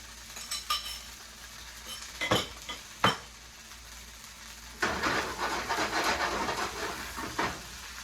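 Portobello burger ingredients stirred in a hot, sizzling pan: a couple of sharp utensil scrapes first, then a continuous crackling sizzle with rhythmic stirring and scraping for the last few seconds, close up and with no talking.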